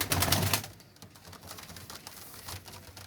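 Pigeons for sale in Faisalabad, including umbrella-type birds and young ones, giving soft low cooing with a brief louder burst at the start and faint tapping and shuffling afterward.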